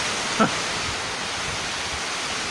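Stormy sea surf at Koblevo on the Black Sea during a small storm, a steady broadband roar of breaking waves throughout with a brief louder splash near the start.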